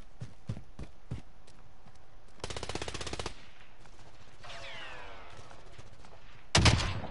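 Gunfire in a video game: a few sharp single shots, then a rapid burst of automatic fire, followed by quieter game effects and a final loud blast near the end, with no talk.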